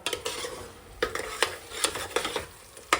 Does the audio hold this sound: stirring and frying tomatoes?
yes